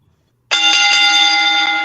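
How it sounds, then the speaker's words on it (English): A bell rings for a wrestling-themed show opener, striking abruptly after a moment of silence and holding a loud, bright, sustained metallic tone with a few quick repeated strikes layered in, alone without voices. "Go ahead and ring that bell."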